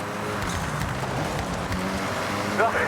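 A rally car engine in a video game accelerates with a steady, strained drone under continuous talk.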